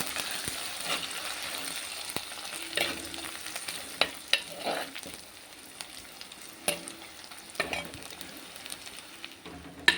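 Curry leaves fry in hot oil in a pan for a Kerala fish curry, giving a steady close sizzle broken by sharp pops and spatters, with occasional scraping stirs and no talking.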